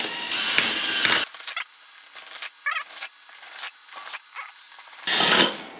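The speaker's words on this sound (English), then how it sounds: "basically drill through all 5 cups" A harsh rasping drill grinding through a stack of five plastic cups, coming in short repeated bursts with brief quiet gaps, then a longer final push.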